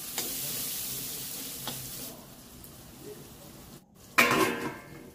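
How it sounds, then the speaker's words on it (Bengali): Eggplant fries with salt and turmeric in fish oil, producing a continuous soft sizzle with a brief sharp clatter near the end and no talking. "লবণ আর হলুদটা দিয়ে বেগুনটাকে লাল লাল করে ভেজে নেব।"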